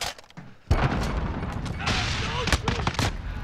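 Sustained burst of video-game gunfire from a Modern Warfare match, rapid crackling shots starting abruptly and continuing loud and close throughout, with a few sharper cracks and a voice faintly beneath.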